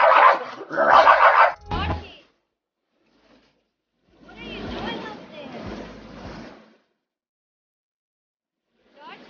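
A boxer dog lets out bursts of loud barks and yips in two separate clusters with quiet gaps between, close to the microphone and not covered by talk.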